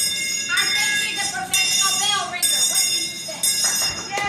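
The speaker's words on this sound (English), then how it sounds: "I want to ring the bell." A handheld bell rung repeatedly at a community parade event, bright metallic strikes in several bursts with ringing decay, close and loud, with people talking and cheering around it.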